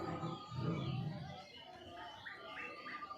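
Roaring of lion and tiger models at a Hosur exhibition, a deep, rumbling roar swelling early on, then fading under a noisy crowd with chatter and a bird-like tone in the background.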